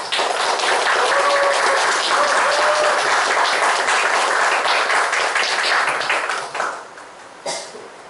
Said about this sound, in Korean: 이철국 선생님 큰 박수로 맞이해주시고 있습니다